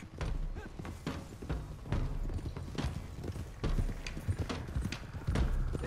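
Several horses gallop in a video game, their hooves beating a fast, uneven clip-clop rhythm close by and fairly loud throughout, with thuds layered over each other.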